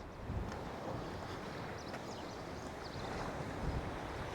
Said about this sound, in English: Hope you can hear me okay, because it's very, very windy.